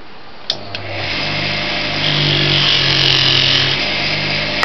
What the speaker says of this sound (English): Use the blue polishing compound on this one.